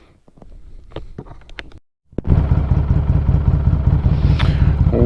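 A motorcycle engine catches after a few clicks and clatters, then settles into a loud, steady idle close by that runs to the end.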